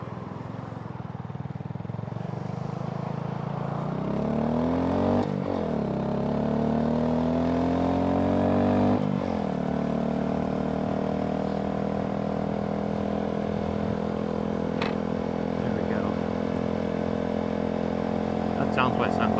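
Honda Grom motorcycle engine heading up a canyon, a steady mid-pitched hum with gear shifts as revs rise, fall and climb again, continuous and close.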